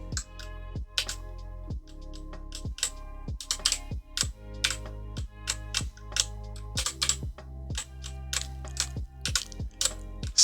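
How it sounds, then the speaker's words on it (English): Keys on a computer keyboard tapped repeatedly while playing a Pokémon game: steady, close clicking presses at an irregular pace, running over tonal game music for about ten seconds. "still getting used to the routing with this keyboard"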